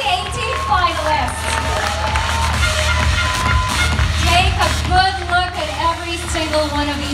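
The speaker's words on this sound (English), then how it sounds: "another round of applause, please, for our Century Tuna Superbods Ageless 2018 finalists" A crowd at the Century Tuna Superbods Ageless 2018 finalists' presentation claps and cheers loudly, with shouts and whoops, while music and an announcer's voice carry over the top.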